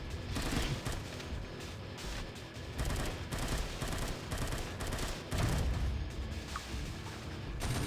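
Rapid machine-gun fire from the zombie shooter game Unkilled rattles in dense, continuous bursts for the whole stretch, loud and close, with heavy booming impacts mixed in and no talking.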